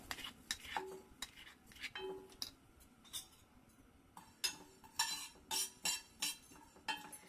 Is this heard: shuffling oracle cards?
no